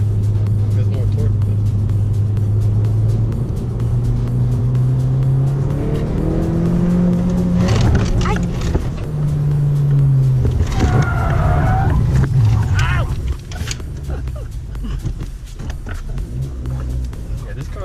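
A 10th generation Honda Civic Si pulling hard through the gears, its engine note rising in pitch, dropping at a shift, then climbing again, heard from inside the cabin with people talking over the rumble.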